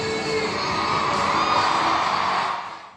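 A sold-out baseball crowd at Minute Maid Park in Houston roars with sustained cheering, whoops and shrill shouts, a dense, loud wall of voices that swells steadily and fades at the end.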